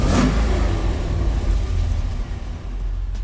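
A 1967 Corvette with an LS3 engine and Tremec gearbox idles and revs loudly up close, a deep continuous rumble with a brief rise in engine note at the start and no talk.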